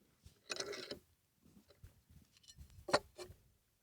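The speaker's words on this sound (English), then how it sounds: "I'm tightening the clamp" A clamp is cranked tight on the wooden frame of a chicken coop, a few short ratcheting clicks and creaks in quick bursts, close and fairly quiet, with a sharper click near the end.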